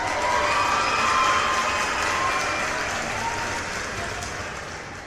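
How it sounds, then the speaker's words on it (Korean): Applause and cheering from an audience, with scattered shouts, hold steady at full volume and then slowly fade, with no talking over them. "일단 박수 한번 치고 갈까요?"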